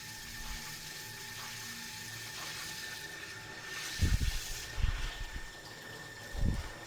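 An agate polishing machine runs with a steady mechanical whir and ratcheting drone, then gives a few low knocks and thumps as it stops and restarts, turning the other way.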